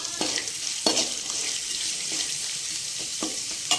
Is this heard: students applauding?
no